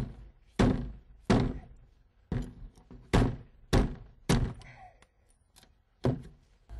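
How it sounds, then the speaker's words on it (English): A tool bangs a threaded rod and cross brace back into a HUD window, producing eight sharp, heavy metallic thunks spaced roughly half a second to a second apart, close and loud with quiet gaps between. "What we can do is just get a tool and bang these back in."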